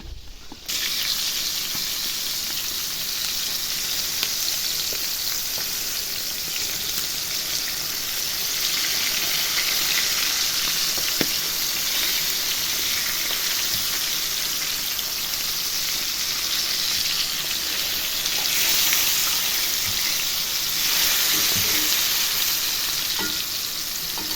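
Steady, close sizzling and crackling of fish frying in a pan, continuous for the whole stretch with small pops and scrapes.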